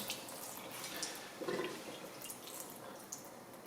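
Faint water trickles and splashes as it drains steadily from a washtub, with small gurgles and drips throughout; no voices.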